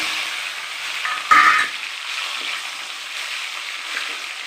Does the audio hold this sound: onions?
yes